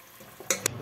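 Ginger and garlic paste dropped into a hot pan, giving two short, quiet sizzling bursts over faint background noise.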